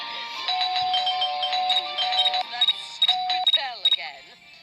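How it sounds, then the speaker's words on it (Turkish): A doorbell chimes in the video game Scary Teacher 3D, a sustained electronic melody with bright tonal notes and repeated clicks, while people talk over it. "Dur ilkten zil çalmayı yapar."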